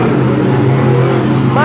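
Race cars at Sunset Speedway in Oregon run side by side for position, a loud, dense engine drone with a rising pitch sweep at the end, under a commentator's voice.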